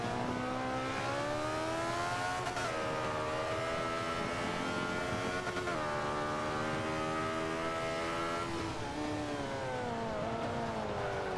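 Race car engine in Forza Motorsport 5 drones steadily and loud throughout, its pitch rising and dipping with gear changes while the car drives alone on track.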